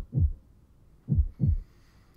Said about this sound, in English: But for many minutes the heart beat on with a muffled sound.